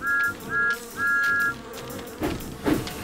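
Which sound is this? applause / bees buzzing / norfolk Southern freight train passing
bees buzzing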